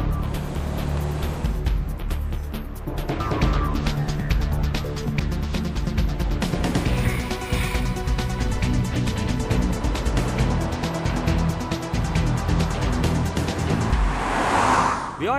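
A 2013 Acura ILX car driving, with a dense, continuous engine and road roar held at a loud, steady level throughout.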